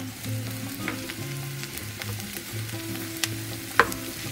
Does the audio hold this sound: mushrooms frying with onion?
yes